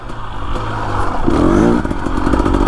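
A 2025 Husqvarna TE 250 dirt bike with an FMF exhaust and TSP tune rides on the white map, its loud raspy two-stroke engine revving up and holding steady, with clattering from the machine.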